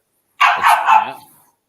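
A single dog barks close by in one short, loud burst lasting about a second, with nothing else around it.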